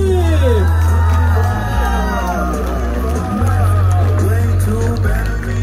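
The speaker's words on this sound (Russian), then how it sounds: "Ребята, аплодисменты, аплодисменты!" A race-event crowd cheers and whoops for the winner, loud close voices shouting and hollering together with a steady hubbub underneath and no clear words.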